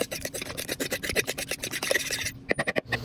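Three beaten eggs are briskly whisked, a quick series of close rhythmic scraping strokes against the bowl, with no voices.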